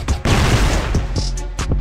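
Gunfire in the shooter game CrossFire during a ranked match: a burst of rapid shots followed by a few sharper isolated cracks, loud and close.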